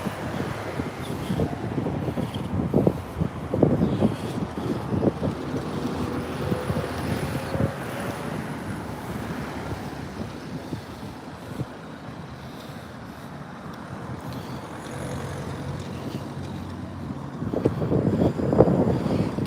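Strong May wind buffets the microphone outdoors, roaring in low rumbling gusts that swell and ease over about twenty seconds, loud and close with no voices.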